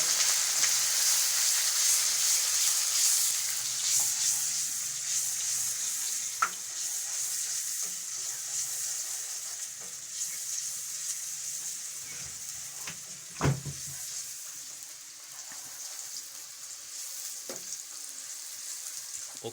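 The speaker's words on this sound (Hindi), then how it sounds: "अब हम तेल हमारा गर्म हो गया। अब हम प्याज डालेंगे।" Onions frying in hot oil in a pan, a continuous bright sizzle that eases slightly over time, with occasional stirring clicks and knocks close by, no talk.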